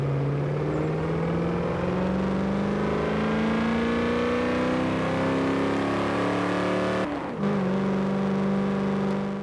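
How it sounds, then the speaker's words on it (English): A car engine in Forza Horizon 4 drones loud and alone, its pitch climbing steadily through a long pull before a brief gear-change dip near the end, then holding high again. "I'm expecting unique car sounds and more interesting car sounds, more realistic car sounds."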